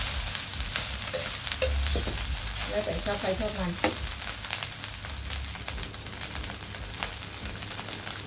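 Rice with fermented pork sausage sizzles and crackles in a hot iron wok, with steady frying hiss and a few scraping stirs of the spatula, up close; a voice speaks briefly over it.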